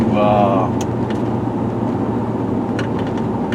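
A 2009 Crown Victoria P71 police interceptor with a tuned engine puttering along slowly, a steady low engine drone and road rumble throughout with brief faint clicks.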